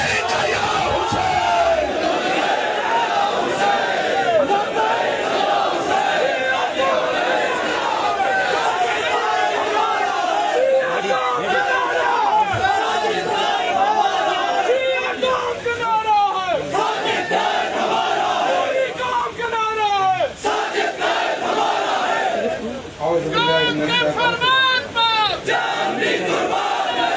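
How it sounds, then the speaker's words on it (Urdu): A large crowd at a religious scholars' conference in Islamabad roars the slogan Labbaik ya Hussain in unison, a loud, continuous massed chant with rising shouts and an amplified voice leading over it. "اپنے بازوؤں کو بلند کیجئے نعرے کے ساتھ لبیک یا حسین"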